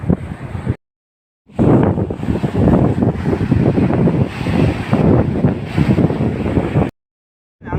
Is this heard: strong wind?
yes